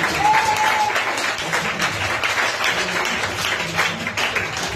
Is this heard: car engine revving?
no